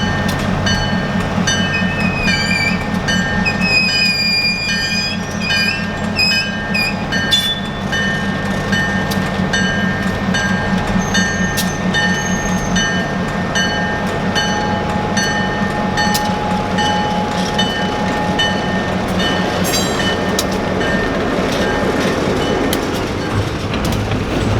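A historic Appalachian passenger train rolls steadily along the rails with rhythmic clickety-clack and a constant rumbling drone, close and loud, with faint squeals and chimes above.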